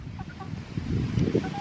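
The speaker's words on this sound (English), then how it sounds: "I just sit here all day and watch her chickens." Backyard chickens softly clucking and murmuring nearby, a few short low calls rising toward the end over a faint outdoor hiss.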